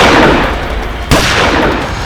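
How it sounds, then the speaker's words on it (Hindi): Gunfire crackles through a loud scene in a shootout. A sharp report cuts in near the middle over dense, noisy background din. "इसी बीच हम पर गोलियां चलने लगी"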